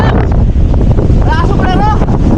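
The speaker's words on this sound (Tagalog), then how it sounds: "Solid na typhoon to." Strong typhoon wind roars steadily and loudly against the microphone with a boat-like rumble beneath, while voices talk and shout excitedly over it.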